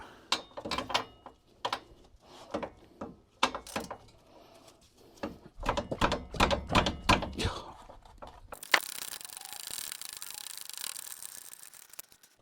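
A short ratchet works a small, tight, fine-threaded brake bolt on a Smart 453 during a disc and pad change, giving a series of quick clicking bursts in groups, close by, before a steady broadband noise takes over.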